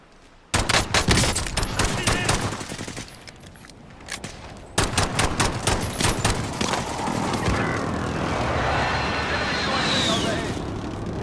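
Bursts of rapid video game gunfire crackle back and forth, with sustained volleys and scattered shots, while voices talk over the shooting.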